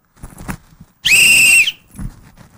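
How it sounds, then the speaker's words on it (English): A single loud, shrill whistle blast rings out in a radio studio for about half a second, with brief talk before and after. "Can we do the whistle?"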